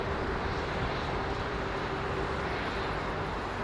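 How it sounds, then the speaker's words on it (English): Airliner engines at London Heathrow spool up toward takeoff thrust in a steady, broad, rumbling roar that holds evenly throughout, with no voices. "Take a hell of a long time to reach the takeoff thrust set, I think."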